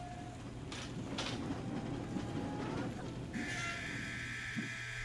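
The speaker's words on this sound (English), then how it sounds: "The train produces the sounds of children crying!" A rattling tram in the game Shadow Man Remastered rolls along with a steady mechanical rumble, then a thin, high wailing like children crying rises over it near the end.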